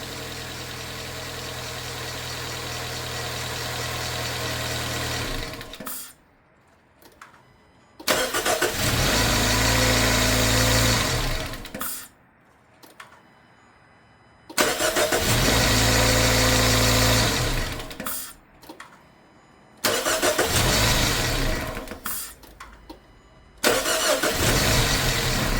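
A 2013 Dodge Dart engine cranks and fires on its first startup, settling into a steady loud idle. The running stretches are broken by several short quiet gaps as it shuts off and restarts, with no talking.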